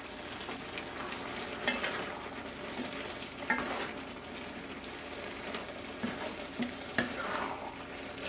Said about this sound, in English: We're gonna add the pasta directly in there.